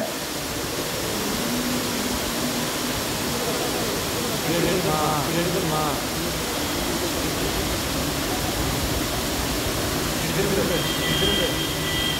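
A waterfall on the road to Kodaikanal via Pandrimalai and Thandikudi roars steadily as a dense, unbroken wash of rushing water, loud and close, with faint voices beneath the noise.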